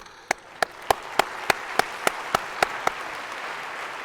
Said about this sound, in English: I would like a round of applause to ratify the election of these 2 honorary